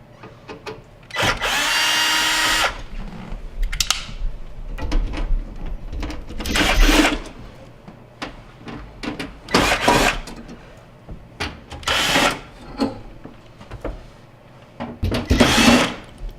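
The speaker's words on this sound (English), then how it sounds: "There's Phillips head screws holding it in place, so we're going to go ahead and remove those now" A power drill removes Phillips head screws from the top panel of a GE microwave, running in several short whirring bursts with pauses between them, loud and close, with no talk.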